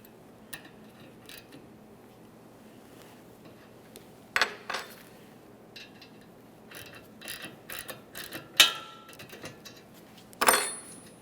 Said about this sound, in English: turn the upper mounting nut counterclockwise to break it free